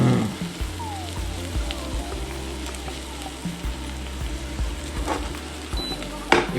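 Garlic and onions fry in a pan for a chicken and chorizo soup, a steady close sizzle with scraping stirs and a sharp clatter near the end, no voices.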